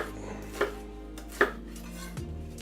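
Half an onion is rough-chopped on a board, two distinct knife thunks followed by a softer third cut, close and dry over a quiet kitchen background, no talking.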